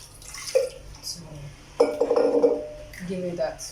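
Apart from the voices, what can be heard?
adding water to thick banku mixture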